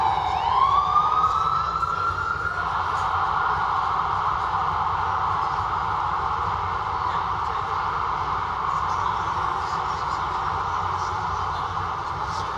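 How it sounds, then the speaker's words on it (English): An ambulance siren in Times Square holds a long steady wail after a rising opening, loud and continuous over a low background rumble, with nobody talking. "I never knew an ambulance siren sounds like the breath."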